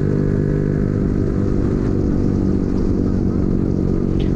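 A Honda Sonic 150R motorcycle at a traffic light, with a loud, close, steady engine drone and a dense low rumble holding without a clear rise in revs.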